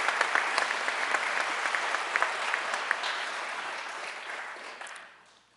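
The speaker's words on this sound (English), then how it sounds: "How about a round of applause for class 243," Graduation-ceremony crowd applauds a police academy class at Lackawanna College, a broad sustained roar of clapping with sharper individual claps near the front, fading out over the last second.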